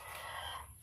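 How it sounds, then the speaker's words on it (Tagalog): A rooster crows once, a short drawn-out call heard from a moderate distance against a faint background hum. "Pero may manok din ako dyan."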